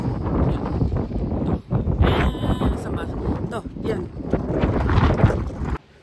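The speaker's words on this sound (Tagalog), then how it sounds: "Mahangin pala." Strong wind buffets the microphone outdoors in Canada, a rough, gusty roar that runs loud and close through the whole stretch, with people talking over it before it cuts off abruptly near the end.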